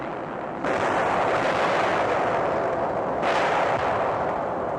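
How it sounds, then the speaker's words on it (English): Enemy mortars bombarding a frontline in Vietnam, two heavy blasts a few seconds apart, each leaving a dense rumbling roar that hangs over a constant noisy background. "of enemy mortars bombarding a frontline"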